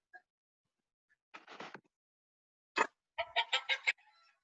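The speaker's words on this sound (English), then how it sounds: "Oh, I think it's a chicken too." A hen clucking, played in a sound quiz: a short burst of clucks, a sharp squawk, then a quick rhythmic run of five or six loud, close clucks against silence.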